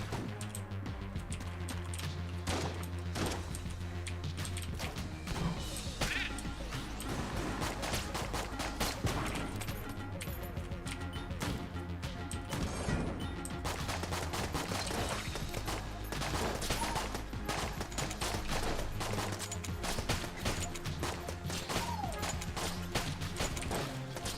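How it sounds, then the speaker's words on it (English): Freeze bullet shots in a video game fire as a dense, rapid stream of crackling impacts. They sound fairly quiet and continuous over a steady backing of game music. "See the freeze bullet effect."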